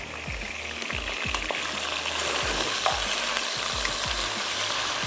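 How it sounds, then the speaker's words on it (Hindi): Pasta ingredients sautéing lightly in a pan, a dense steady sizzle with repeated low thumps and scrapes of stirring, close and loud, without speech. "हल्का सा सौते करते हैं बस"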